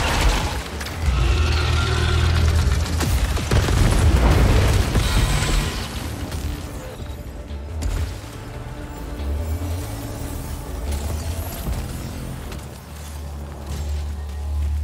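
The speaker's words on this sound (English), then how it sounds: "Oh, it's a Spirit Maul blaster. That's a shotgun." Shotgun blasts from the Spite Maw blaster in the sci-fi shooter Returnal, with heavy booming bursts and a loud, dense roar early on that settles into a sustained rumble, with no speech.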